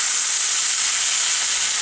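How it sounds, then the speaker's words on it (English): Swedish pancake batter sizzles steadily in a hot pan, a continuous bright hiss with no talking. "You can hear that sizzle."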